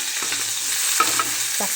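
Curry leaves drop into hot oil for vermicelli upma and sizzle briskly. A steady close crackle carries a few sharper pops and stirring scrapes near the end.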